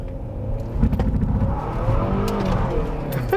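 A 2004 Nissan Altima, a front-wheel-drive four-cylinder car, runs with a steady, loud engine drone and rising revs, heard close and continuous without talk.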